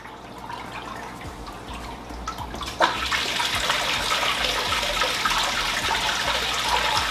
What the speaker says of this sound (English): Now the FX6 kicked back on